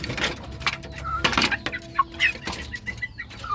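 Chickens being treated for illness cluck and squawk close by in short, irregular bursts with faint background noise.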